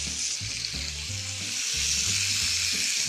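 Marinated steak sizzles and fries loudly in a hot pan, a steady close hiss with faint low clinks and bumps from the cookware underneath.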